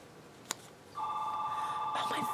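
A telephone rings with a sustained two-tone electronic trill, fairly clear and steady, after a brief sharp click in a quiet room.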